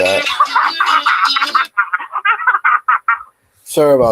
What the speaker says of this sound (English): I got my beats created on my ringtone right there.